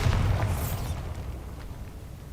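A single loud Bombarda spell explosion in the video game Hogwarts Legacy, a sharp close blast at the start followed by a rumbling decay that fades over about two seconds.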